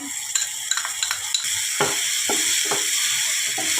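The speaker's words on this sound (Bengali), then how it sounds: "টমেটো কুচিগুলো দিয়ে দেবো আমি এবারে অল্প পেঁয়াজ আর রসুন কুচিটা দিয়ে দিলাম" Chopped tomato, onion and garlic sizzle in a hot pan, with a steady frying hiss broken by several scraping stirs of a spatula, heard close and without voices.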